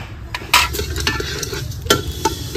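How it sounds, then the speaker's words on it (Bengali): Mung dal frying in a pan, a steady close-up sizzle with a few sharp scrapes and clinks of a spoon stirring against the metal. "মুগ ডালটা ভেজে নেব।"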